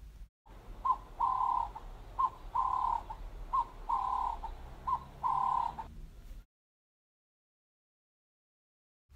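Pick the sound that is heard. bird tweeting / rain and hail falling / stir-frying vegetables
bird tweeting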